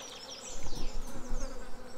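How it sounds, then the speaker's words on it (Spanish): Flies buzz continuously in the farming game Stardew Valley, a close, wavering insect drone lasting a couple of seconds with no talking over it. "¿Y estas moscas?"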